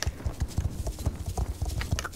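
Horse in Star Stable Online walking on firm ground, a steady, even series of close hoof clops repeating without pause, moderately loud with no talk.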